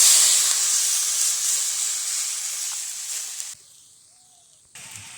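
Water poured into a hot pan while cooking fish roe bursts into a loud steamy hiss that gradually weakens, cuts out abruptly, then returns briefly and quieter near the end.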